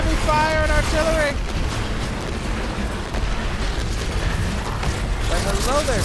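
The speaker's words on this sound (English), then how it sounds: "I'm just under a whole lot of heavy fire and artillery" Heavy gunfire and artillery blasts from Destiny 2 roll on in a dense, continuous barrage, with a voice talking over the opening and closing moments.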